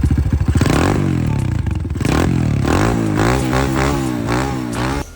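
A motorcycle engine with a freshly adjusted carburettor throttle needle runs loud and close, revving up and down in repeated rising and falling sweeps over a rough, steady idle.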